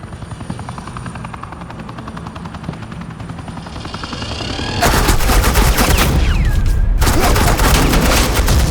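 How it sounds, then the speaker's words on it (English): Suppressing gunfire in the video game Batman The Enemy Within: a steady whirring, rotor-like drone gives way midway to loud, sustained bursts of rapid gunfire that run to the end, briefly broken by a short pause. "suppressing fire."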